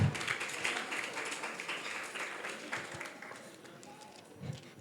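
Audience clapping for a school play performed by girls, a soft, steady patter of many hands that holds for several seconds at a fairly faint, distant level.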